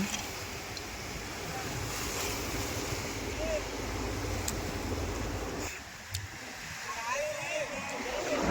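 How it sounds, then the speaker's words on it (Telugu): Surf surges and washes in continuously, with gusty wind buffeting the microphone and a voice talking over the roar of the waves. "చూశారు కదా అలలు ఎంత పైకి ఎగసెగసి పడుతున్నాయో"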